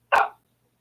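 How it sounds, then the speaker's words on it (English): A single short, sharp dog bark close to the microphone, followed by quiet with only a faint low hum behind it. "Suzette, is that your dog?"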